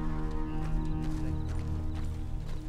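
Horse hooves clip-clop in Red Dead Redemption 2 roleplay, a steady run of soft hoof beats over a continuous bed of game ambience and tonal background sound.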